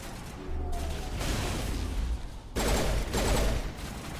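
Pistol fire in the video game Mass Effect Legendary Edition: two loud broadband bursts of shooting, each lasting over a second, with other game sounds underneath.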